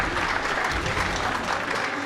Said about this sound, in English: Let's get a round of applause for Newbie finishing up his segment of the run.